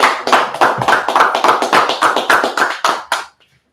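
Crowd clapping in unison at a gathering: a steady, rhythmic run of loud, sharp claps at about three per second that stops abruptly, with no talking.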